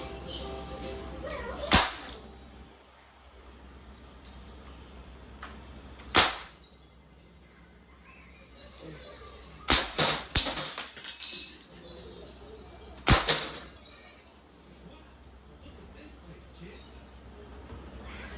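Crosman 1077 Freestyle CO2-powered semi-automatic airgun fired outdoors in a few sharp cracking shots, one near 2 s, one near 6 s, a quick cluster around 10 s and another at 13 s, with quiet ambience between.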